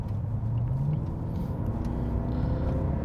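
A naturally aspirated Mercedes-Benz S63 L AMG engine with a redline over 7,000 RPM revs, its pitch climbing over the first second before settling into a steady, throaty drone.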